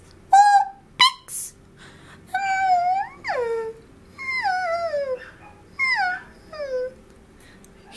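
A dog nearby whimpers and whines in a series of high, wavering cries, some sliding downward, spread across several seconds with short quiet gaps between them.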